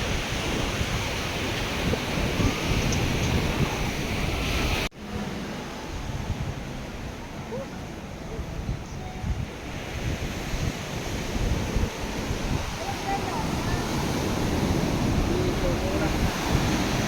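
Sea waves roll steadily at Sarangani Bay off Kiamba, Sarangani, a continuous broadband surf wash mixed with gusting wind noise on the microphone, with one brief dip in the sound before it resumes.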